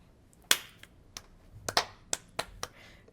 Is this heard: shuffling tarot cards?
no